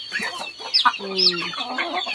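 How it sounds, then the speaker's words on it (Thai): Village chickens and ducks in a rural Lao farmyard, with a few close clucks and a short squawk over background bird calls and faint rustling. "นี่เป็ดไก่เพิ่นแหละจนเต็มเลยนี่เนาะ"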